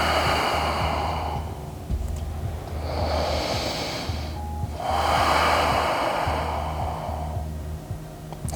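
Slow, deep yoga breaths alternate between long audible inhales and exhales, close and breathy, with a low steady hum underneath and no talking.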